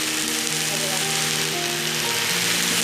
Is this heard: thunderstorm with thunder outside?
no